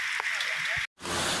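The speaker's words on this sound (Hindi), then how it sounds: "देखु तो बहुत बड़ वर्षा आज बहुत जोर वर्षा हो गला" Heavy rain falls in a forest near a waterfall as a loud, steady hiss that cuts out briefly, then returns, with a voice faintly present.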